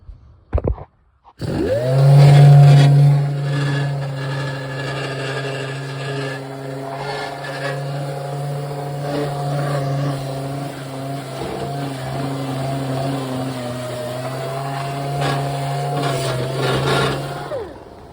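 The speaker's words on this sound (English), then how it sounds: "Quick work with an orbital." An orbital sander working the strut tower of a 1965 Mustang spins up after a few knocks, holding a steady buzzing drone with a gritty rasp of abrasive on metal, loud and close.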